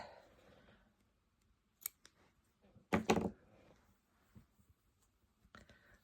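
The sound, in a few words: scissors snipping off yarn after slip stitch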